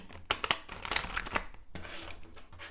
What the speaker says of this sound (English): I'm gonna do some more shuffling